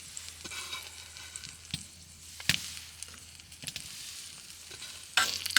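Onions and garlic sizzle in a pan on a camping stove during winter camping in Michigan's Upper Peninsula, with a soft hiss broken by scraping stirs and a few sharp clicks and clatters. Nobody speaks.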